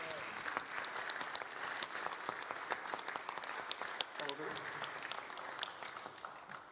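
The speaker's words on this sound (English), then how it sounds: "let's give a round of applause" Audience applause for World War II veterans at an evening author talk, a steady spread of clapping from a crowd in a hall with a few voices and cheers mixed in, fairly distant.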